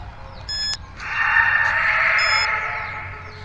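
A handheld ghost tracker device gives two short electronic beeps a couple of seconds apart over a steady hissing noise.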